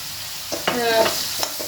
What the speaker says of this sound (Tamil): மீடியம் தீயில் வச்சு வதக்குங்க.